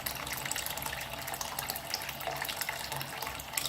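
Water running from a tap in a holiday home in Queenstown, a steady hissing gush at moderate volume that continues unbroken, with no voices.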